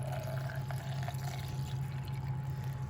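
Lemon and ginger tea pours steadily into a Vitamix blender in a home kitchen, a soft continuous trickle over a low appliance hum, with no talking.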